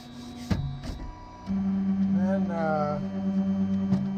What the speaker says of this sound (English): I always send the print head of the printer to home